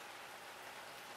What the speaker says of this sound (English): It's raining finally here in Northern California